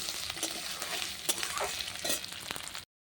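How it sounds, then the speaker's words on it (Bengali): Jackfruit seeds fry and get stirred in a pan over a clay stove, a steady close sizzle broken by scraping stir strokes, no voices, ending abruptly. "কাঁঠালের বীজ দিয়ে একটু ভেজে নেবো"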